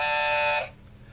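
An electric buzzer on a homemade shock box hums with a steady, bright, loud tone while the button is held down, then cuts off sharply partway through, leaving a quiet room with no talking.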